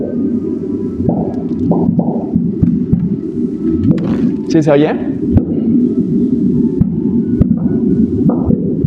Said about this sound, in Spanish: esta es una compilación de sonidos de ondas gravitacionales